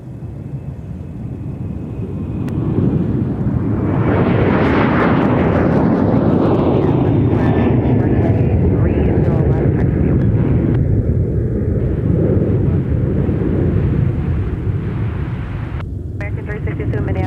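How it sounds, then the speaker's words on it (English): An airliner takes off from runway 30 left at Minneapolis–St. Paul airport, a loud, deep jet roar building and rumbling steadily, then slowly fading, with faint voices in the background. "Here's our flight to LAX. Hi. Departing off 30 left."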